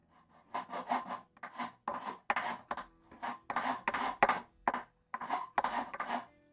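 A Shinto rasp works over wood in rough passes, giving a series of quick, close, scratchy strokes in uneven bursts with short pauses between them.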